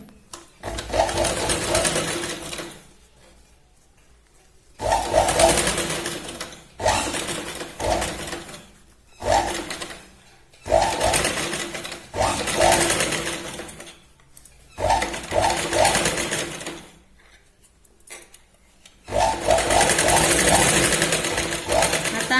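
Sewing machine running double-seam stitching on a Katori blouse, in repeated bursts of fast rattling stitches separated by pauses, close and steady.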